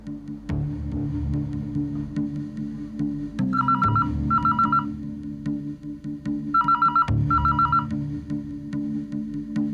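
Two short bursts of telephone keypad tones, a few seconds apart, each a quick run of beeps over a steady low background hum.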